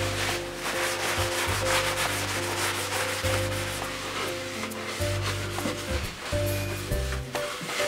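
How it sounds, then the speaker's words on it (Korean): Hanji paper rubs varnish off a freshly coated wooden bookshelf in a woodworking workshop, giving steady scratchy wiping strokes close by, with background music running underneath. "이거 하고 바로 한지로 바로 닦아줘야 되는 거예요?"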